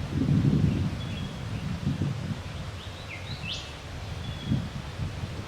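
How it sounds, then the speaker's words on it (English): Several different birds call faintly and sparsely by a creek in the Australian bush, brief whistles and chirps over low rustling and wind noise, with no voices. "So there, you can hear the different birds."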